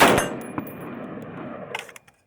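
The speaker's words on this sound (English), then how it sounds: "Drop the mag." A SCAR 16 short-barrel rifle magazine drops free with a sharp metallic clang at the start, then a faint ringing tail and a couple of small clicks.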